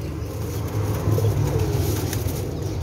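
Teddy Golden pigeons, fancy birds kept as breeding pairs, coo in low, rolling murmurs that swell slightly midway and continue steadily close by, with no talking over them.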